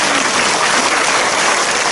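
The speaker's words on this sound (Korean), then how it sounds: "주님께 영광의 박수 드리겠습니다." Church congregation applauding together in praise, a dense, steady wash of clapping filling the room at full loudness from start to finish, with no voices standing out.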